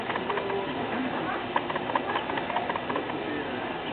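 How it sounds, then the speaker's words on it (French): Horse trotting in lateral leg-yield work at a riding club, soft rhythmic hoof clops with birds cooing in the background. "On est sur une session à la jambe au trot, donc le cheval est en déplacement latéral"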